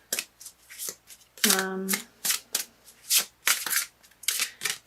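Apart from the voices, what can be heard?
shuffling oracle cards during a tarot reading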